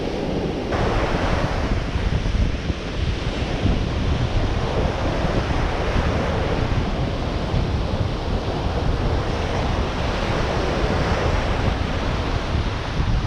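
North wind blowing at sea buffets the microphone with a constant loud rush, with surf and waves washing beneath it for the whole stretch, no voices.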